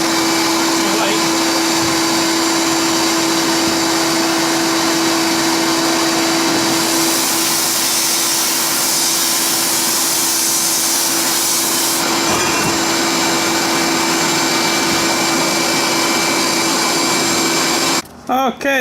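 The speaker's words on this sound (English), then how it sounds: "I'm gonna sandblast them up, turn the vacuum on." Sandblaster hissing steadily at close range while a vacuum runs alongside, blasting wooden ramp ends; a broad continuous roar with a louder, brighter middle stretch of blasting, cut off near the end.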